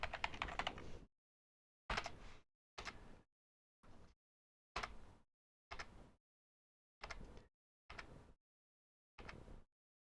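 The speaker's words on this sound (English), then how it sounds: "let me just type in Garden" Short bursts of typing on a computer keyboard, about nine separate clusters of keystrokes with silent gaps between them, close and fairly quiet.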